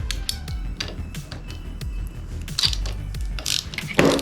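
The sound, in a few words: ratchet loosening screws on Yamaha motorcycle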